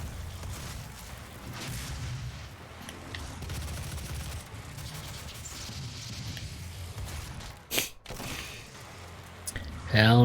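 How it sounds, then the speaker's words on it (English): Explosions and weapon fire from the video game Doom rumble through a dense, continuous barrage of in-game combat noise, with a sharp burst near the end. "Hell Knights don't like explosions."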